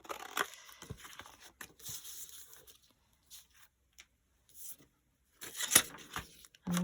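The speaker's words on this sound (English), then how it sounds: "Let's just cut it in half." Paper being cut in half for a handmade junk journal envelope pocket: a scattered run of close, crisp scissor snips and paper rustles, with quiet gaps between and a sharper crunch of paper near the end.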